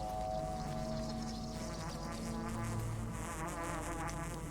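Continuous insect-like buzzing of herbs in Pathologic 2 hums steadily, fairly faint, with a wavering drone underneath and no talking.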